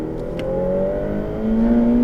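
A Ferrari F8 Tributo accelerating hard on the Le Mans Maison Blanche track, heard from inside as a loud, rising engine whine that climbs steadily in pitch, drops at a shift, then climbs again, with no talk.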